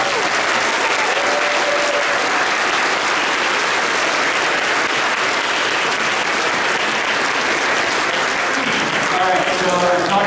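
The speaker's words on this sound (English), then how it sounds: "please give a big round of applause for them" Audience applause at a convention closing ceremony, a loud, steady wash of clapping and crowd noise that continues unbroken, with faint voices and a brief tone under it.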